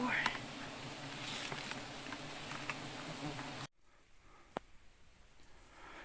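Worker bees fly in and out near a hidden nest in bushes, making a faint buzzing hum over outdoor background noise, which drops abruptly partway through to a quieter stretch with an occasional brief buzz.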